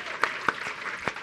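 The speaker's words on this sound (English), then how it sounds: "we're gonna give you a round of applause as well" Keynote audience applauding, a short stretch of scattered claps with a few distinct sharper hits over a soft steady wash.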